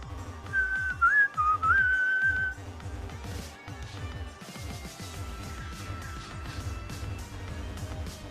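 Grass Whistle, a move from a Pokemon game, plays as a short wavering melodic whistle for about two seconds. Rhythmic game music and effects run underneath, followed by further percussive effects, with no speech.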